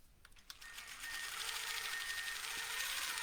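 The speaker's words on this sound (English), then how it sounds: "And then you would just sew down." A longarm quilting machine stitches along a Westalee ruler, starting with a few clicks and then settling into a steady, fast mechanical whir with a thin whine, close and continuous.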